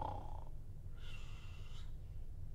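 A voice imitates snoring: a breathy inhaled snort followed by a higher, nasal drawn-out exhale, heard up close with no other sounds.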